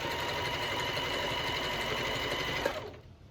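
A sewing machine stitches slippery fabric in a steady, continuous run close by, then stops abruptly near the end, leaving a quieter tail.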